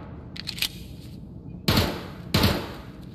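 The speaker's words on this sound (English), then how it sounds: "All this rapid gunfire." Rapid gunfire in the video game Escape from Tarkov: two loud, sharp bursts close together in the second half, after fainter distant shots earlier, with no talk.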